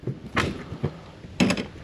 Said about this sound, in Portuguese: para pôr isto no descanso central